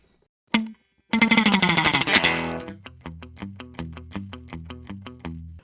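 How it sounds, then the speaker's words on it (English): A 1961 Fender Jazzmaster electric guitar: a single plucked note, a ringing strummed chord with effects, then a run of short, evenly repeated chord stabs. "Now this is a Fender 1961 vintage Jazzmaster guitar."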